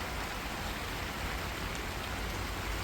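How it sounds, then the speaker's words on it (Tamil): Heavy evening rain pours down steadily in a village, a dense, even hiss of drops beating on surfaces with no break. "இப்போ பாருங்கள், திடீர்னு நல்லா மழை ஊற்றிக்கிட்டு இருக்குது."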